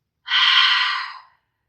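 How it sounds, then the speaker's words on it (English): A single open-mouth exhale during yoga breathing, a close, breathy whoosh that starts abruptly and trails off over about a second. "Open mouth exhale"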